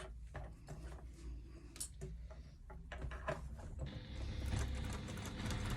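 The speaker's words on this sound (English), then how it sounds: "Try and keep your stitching straight, because then you'll get a nice even ruffle" A sewing machine stitches a fabric hair scrunchie in close, uneven bursts of mechanical whirring and clatter, turning louder and more continuous in the final seconds, with no voices.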